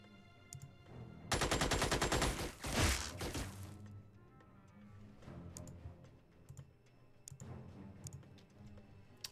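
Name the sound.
gunfire in the video game Xenonauts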